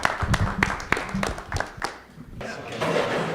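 Audience at a tech summit in Provo claps in a quick burst of applause, sharp overlapping hand claps that thin out and fade after a couple of seconds, with a voice speaking among them.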